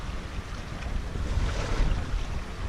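A sailboat runs under full sail with the whole genoa set in 11 knots of wind off the Tuscan coast near Elba, giving a steady wash of water, hull rush and wind buffeting on the microphone throughout.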